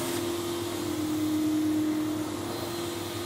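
A vacuum cleaner fitted with a Teflon glide on its wand runs over corded contract carpet, giving a loud, steady droning whine with a constant tonal hum. The sound is continuous and there is no talking.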